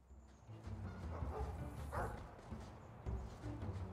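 A lost dog in the fantasy game Dragon Age II gives a few faint, distant barks and yips that rise over a quiet game ambience, with no talk over them.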